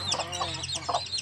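A mother hen clucks near her newly hatched chicks beside a cattle feeding area, repeated soft close clucks mixed with faint high peeps over a low steady hum, with no voices.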